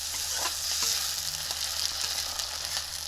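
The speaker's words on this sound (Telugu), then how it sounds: "నూనె కాగాక మనం జీలకర్ర వేసుకున్నాం, చిల్లీస్ వేసుకున్నామండి" Cumin seeds and chilies fry in hot oil with a steady, dense sizzle and crackle that holds close and even throughout, with a few faint stirring clicks and no voices.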